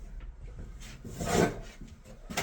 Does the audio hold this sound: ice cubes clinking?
no